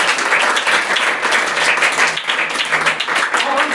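Students applaud loudly in a school classroom, steady dense clapping filling the whole stretch without pause, close and even, with no talk over it.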